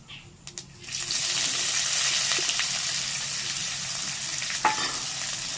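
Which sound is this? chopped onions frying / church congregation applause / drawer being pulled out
chopped onions frying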